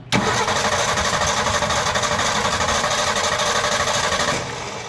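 Six-cylinder engine of a 1966 Ford Bronco cranking and catching at once, then running in a loud, steady, close rumble with a regular pulse for about four seconds before dropping off slightly.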